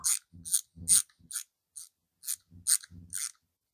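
A ratchet tightens bolts to press an engine cover down on a 1275 engine during timing work, giving close, sharp clicking bursts in short uneven runs separated by brief pauses, with no voices.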